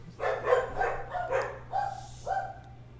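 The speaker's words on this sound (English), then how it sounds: "my dogs also go by Tits. So they're excited now" Several dogs bark and yip excitedly in short bursts, a few rapid barks followed by two longer whining yelps, fairly close and loud over a low steady hum.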